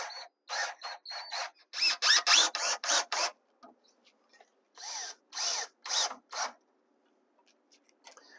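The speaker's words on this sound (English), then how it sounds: "Now I'll attach the upper deck to the tall frame with a couple of wood screws." Power drill driving wood screws into a model railroad benchwork frame, with a run of short whirring bursts close by, a pause, then a few more bursts, and no talking.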